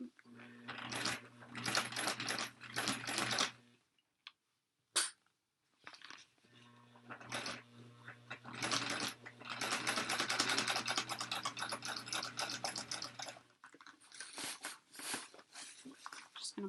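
A sewing machine stitches through a thick tote bag strap in short bursts, with whirring runs separated by pauses and a steady low motor hum under the stitching. No one talks.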